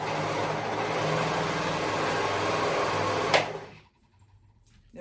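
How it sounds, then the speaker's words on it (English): A sewing machine runs in one steady, close whirring burst, stitching the raw edges of a neck piece together, then stops abruptly and leaves near silence. "I'm gonna sew those raw edges together at the top."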